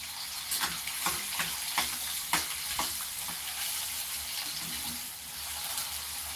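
Finely chopped onion sautéing on low heat in a pan for a farsan vegetable curry, a steady soft sizzle with a few stirring clicks and scrapes throughout, close and moderately loud.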